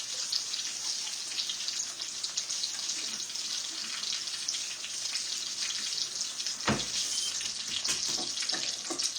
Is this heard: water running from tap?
yes